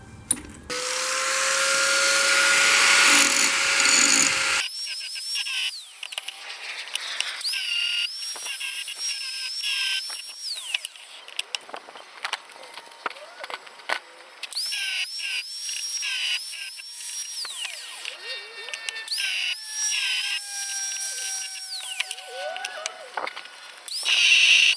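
Angle grinder fitted with a cutter wheel slicing metal for a fire poker build, a loud whine at the start, then repeated bursts of high screeching cuts with short pauses between passes.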